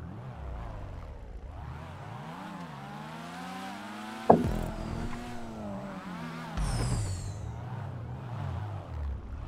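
A car in GTA V Online idles and revs with rising and falling engine pitch, a sharp knock midway, then another throttle burst, all heard fairly close with no talking.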